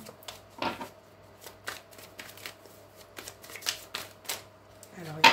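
Tarot cards being shuffled, a run of quick papery riffles and soft slaps in irregular bursts, close and light, while someone speaks French over them.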